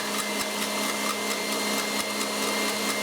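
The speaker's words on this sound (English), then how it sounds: "And so we're going to turn our mixer up on high." Electric hand mixer running on high speed, beating egg whites with cream of tartar for a gluten-free chocolate cake; a steady, dense motor whir with faint clicking of beaters against the bowl, continuous and close.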